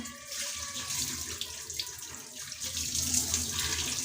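Tap water runs steadily while items are washed under it in a home kitchen, a soft continuous splashing hiss with small shifting surges, fairly quiet and without voices.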